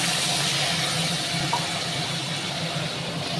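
Water poured into a pan of potatoes fried with masala, giving a steady, loud, broad sizzle and hiss that holds evenly throughout with no voices.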